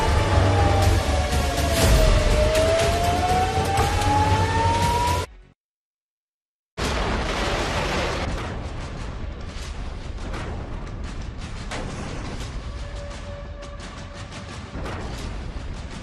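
Air raid siren wailing over a rocket attack in Haifa, a rising and falling tone under heavy rumble, then a sudden cut to silence followed by distant booms and a faint steady tone.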